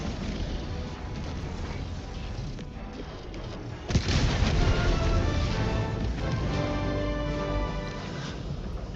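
Heavy explosions and gunfire rumble through a Helldivers game battle, a dense, loud wash of booms that swells sharply into a bigger blast midway and keeps roaring.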